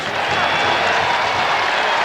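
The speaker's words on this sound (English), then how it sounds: "I can hear some of those folks with a good view of that side of the field. I read that applause." A stadium crowd at a college football game between Washington and Colorado applauds and murmurs steadily, a broad continuous wash of distant clapping and cheering with no break.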